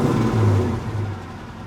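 A 1968 Chevrolet Camaro's engine turns over and fires briefly, a loud, close low rumble that swells and then settles into a steadier idle within a couple of seconds.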